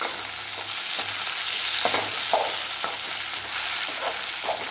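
Tomatoes sautéing with onion and spices in a pan for a potato milk curry, a steady close sizzle with scattered spatula scrapes and stirring clicks throughout, no talking.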